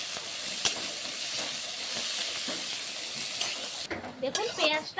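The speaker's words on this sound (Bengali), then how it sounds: "এরপর আমি ভালো করে ভেজে নেব পেঁয়াজটা।" Chopped onions fry in hot oil in a pan for a Bengali okra bharta, giving a steady close hiss and sizzle, with stirring scrapes breaking in toward the end.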